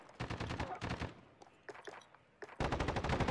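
Rapid automatic gunfire in Call of Duty: Modern Warfare, several bursts of sharp cracks separated by brief pauses and scattered single shots, closing with a longer sustained burst.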